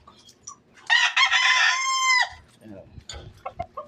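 A rooster crows loudly once up close, followed by softer scattered clucks and a faint voice in the background.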